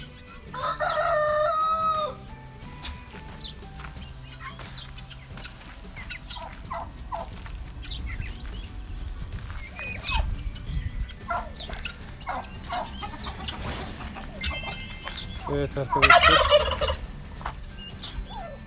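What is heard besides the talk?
turkeys gobbling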